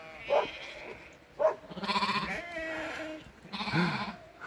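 Recently shorn sheep bleat nearby in a few short calls, followed by longer overlapping bleats, on a farm with light background noise.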